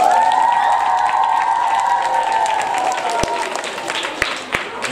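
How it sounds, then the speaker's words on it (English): Applause for a teacher at a school nativity show, a dense steady clapping from a hall audience that carries on for several seconds and then thins toward the end, with a few louder claps standing out. "Let's give Mrs. Dodd a big round of"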